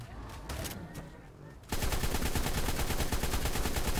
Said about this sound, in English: But I'll shoot it with a machine gun.